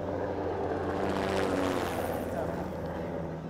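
A Caïman sea-rescue helicopter hovers in place, its rotor and engine making a steady, broad roar that swells slightly midway.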